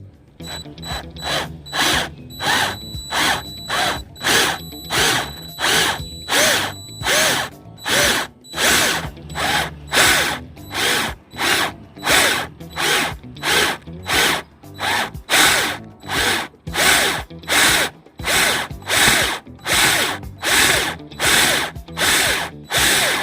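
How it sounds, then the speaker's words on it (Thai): A power drill drives a nut fitted on a screw extractor bit onto a broken-headed screw, giving loud, rapid ratcheting bursts that repeat in a steady pulsing rhythm throughout, close and alone. "เราจะหมุนหรือว่าขันน็อตปลายเกียร์สว่าน เข้าไปที่น็อตเลยครับ"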